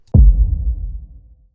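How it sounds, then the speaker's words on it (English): One heavy, deep impact thuds in abruptly and lingers as a low, resonant rumble that slowly dies away over about a second. "a sample that I got from the sound design session, which I just called Impact"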